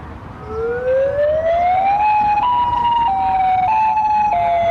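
A tornado siren winds up in a rising wail, then holds a loud sustained tone with small pitch steps, alone and close.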